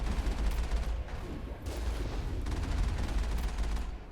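Sustained gunfire from a Mass Effect firefight, a dense rattle of rapid shots with heavier bursts around the middle, loud and continuous with no voices over it.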